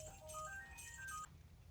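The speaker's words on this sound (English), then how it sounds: "that was a phone call" A phone rings with an incoming call during a Diablo 2 Resurrected play session, a melodic electronic ringtone of rising and falling tones that repeats twice before cutting off, heard alone at moderate volume.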